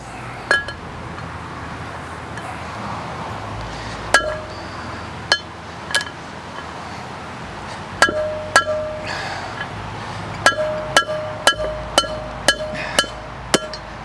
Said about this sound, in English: Step one, lug nuts out.